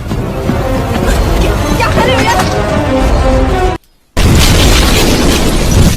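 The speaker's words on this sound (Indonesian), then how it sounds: "tak beberapa lama setelah mereka keluar, rumah itu pun meledak dan hancur." A loud, sustained explosive roar of a house blowing up, with rumbling debris, briefly cut to silence, then resuming just as loud; faint voices mixed in.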